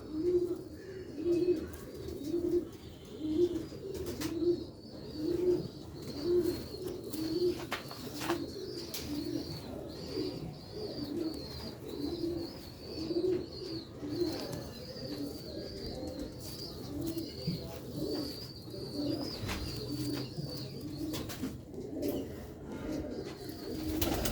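Pure Sialkoti pigeons coo in a steady, repeating rhythm, soft throaty calls close by, with a faint high whine and occasional rustling underneath.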